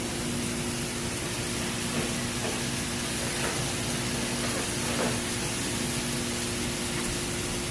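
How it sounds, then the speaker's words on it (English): Seasoning for meatless Singapore noodles simmering in a pan gives a steady, even hiss and sizzle that runs throughout, with a faint hum and no talking. "you let that simmer just for a minute"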